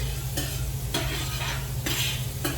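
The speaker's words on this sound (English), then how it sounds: "we're going to add our onion. Listen to the sizzle." Onions sizzle steadily in a hot pan, with a spoon scraping and stirring through them every second or so.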